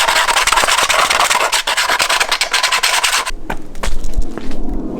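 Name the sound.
sanding the edges of a scooter part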